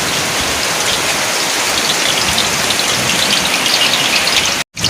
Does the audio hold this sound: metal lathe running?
no